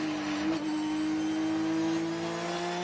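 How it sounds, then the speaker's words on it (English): A race car engine at the Watkins Glen SpeedTour holds a steady, droning tone with a brief pitch dip near the start as the driver feathers the throttle in third gear, then runs evenly on. "he might have been feathering the throttle there"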